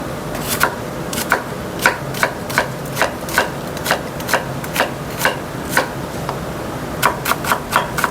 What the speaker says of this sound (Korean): 너무 곱게 다지지 않고 채 썰듯이 썰어줍니다.